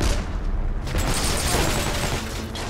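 Dense bursts of gunfire and booms from the video game Heroes & Generals, loud and chaotic over nearly three seconds, with a voice briefly audible under the shots.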